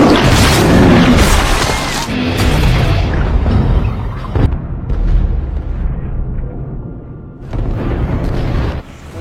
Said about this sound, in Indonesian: bom kimia meledak, menghancurkan kapal dan seluruh kru Tunbul